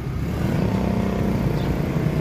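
A used Yamaha Jupiter motorcycle's engine idles steadily up close, a continuous low drone with a faint rattling texture, heard alone without speech.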